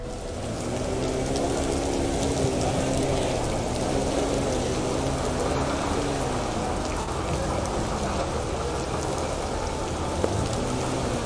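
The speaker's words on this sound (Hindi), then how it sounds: "बारिश का मौसम है, बारिश हो रही है पूरे ज़ोर से" Heavy rain pours down steadily at an outdoor farmers' protest camp, a loud, dense, unbroken hiss of drops on surfaces that stays constant throughout with no voices.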